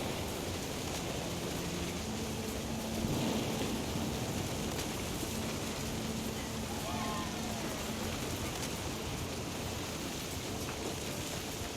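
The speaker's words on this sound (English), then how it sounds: "The thunder sounded much too close and full of angry power." Steady heavy rain with low rumbling thunder in the video game What Remains of Edith Finch, a constant dense hiss filling the scene, with a faint tonal element and speech underneath.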